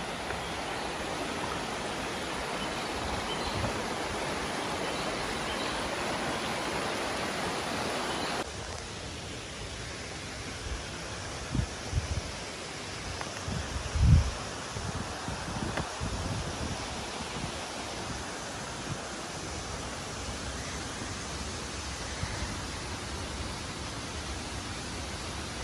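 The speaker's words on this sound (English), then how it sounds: "Near the waterfall." Leke Leke waterfall, a constant broad rushing roar of falling water that drops slightly in level partway through, heard close and unbroken with no voices.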